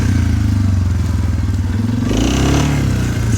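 A Suzuki ATV quad, either a 2015 KingQuad 500 or a 1999 QuadRunner 500, churns through loose, deeply rutted sand with a loud, steady engine drone and a rising rev toward the end.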